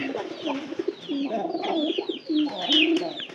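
Newly acquired pigeons coo and chirp close by inside a room while being fed, a busy overlapping mix of low throaty coos and brief higher squeaks filling the short stretch.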